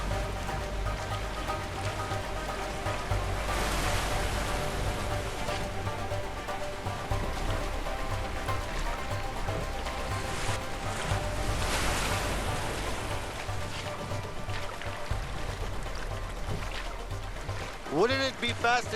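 Boat on a rough river stream in the video game A Way Out, a continuous rushing of water and surf-like churning, with character voices talking over it.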